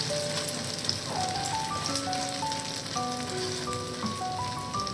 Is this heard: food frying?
yes